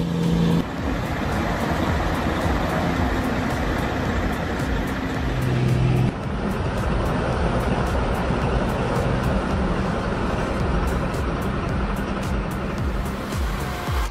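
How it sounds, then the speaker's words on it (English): A heavily loaded logging truck carrying an oversized, overweight load of massive logs rolls downhill, its steady engine and road rumble loud and continuous throughout, with no talking. "it seems the oversized and overweight load is giving this truck a tough time"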